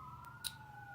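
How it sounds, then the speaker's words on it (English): A siren wails steadily in the distance, a long faint tone held under light background noise with a brief click partway through. "can you hear the lovely sirens in the background?"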